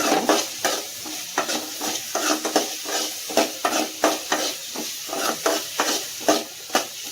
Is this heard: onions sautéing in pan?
yes